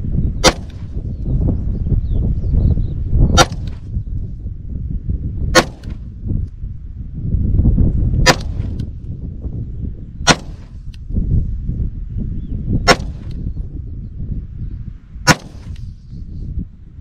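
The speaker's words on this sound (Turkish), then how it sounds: "5 atış yapacağım her hedefe." Walther P99 pistol fired at a 250-metre range test: seven sharp, loud shots spaced two to three seconds apart, each a crisp crack standing out over a steady rumble of wind and outdoor background noise.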